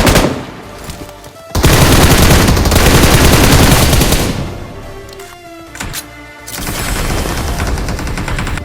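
Sustained bursts of M249 machine gun fire in a battle royale shooter, loud and close, with long rattling volleys broken by brief pauses and a few clanks between strings of shots.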